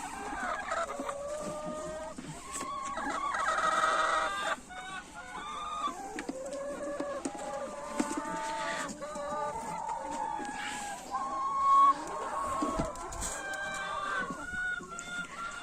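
Hens cluck repeatedly in an irregular stream, with a few louder squawks standing out above the flock chatter. No talking is heard.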